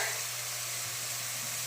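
Cracked cardamom and spices sizzle in hot white oil, giving a steady, close, bright hiss with no voices.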